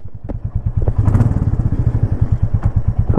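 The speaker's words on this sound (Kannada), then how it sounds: "ಎಕ್ಸಾಸ್ಟ್ನ ಸೌಂಡು, ಇಂಜಿನ್ನ ಸೌಂಡು ತುಂಬಾ ಚೆನ್ನಾಗಿ ಕೇಳ್ತಿದೆ." A 2024 Royal Enfield Classic 350 motorcycle idles and blips its throttle nearby, producing a steady, deep thumping exhaust beat with mechanical clatter that grows slightly louder and quicker as it revs.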